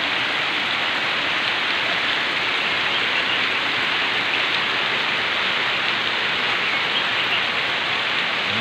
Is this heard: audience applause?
no